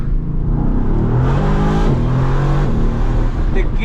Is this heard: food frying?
no